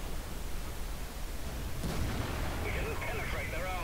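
Tank cannon fire in a tank video game, a sudden loud blast from the cannon cutting into dense rumbling battle noise, followed by debris and ringing.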